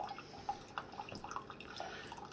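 Water and vinegar dripping through a Cuisinart SS-15P1 coffee maker during a cleaning cycle, faint irregular drips and soft trickling, steady and close with no talk.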